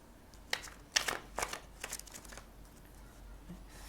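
Tarot cards are shuffled close by in a handful of crisp riffling bursts over the first two seconds, then fading into quiet room tone.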